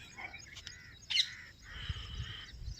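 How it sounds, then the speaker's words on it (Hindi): Several birds call and chirp at a distance over soft outdoor background noise in farm fields at sunrise, including a harsher cawing note among the tweets. "पक्षी बोल रहे हैं, शहर में तो ये पक्षी"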